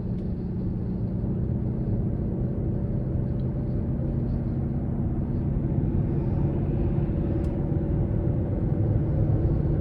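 Hybrid gas engine of a Toyota Crown Signia drones steadily while the car is driven, a constant low rumble with road noise and no talk.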